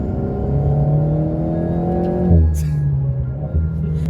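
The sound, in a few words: Alpine A110 sports car engine induction sound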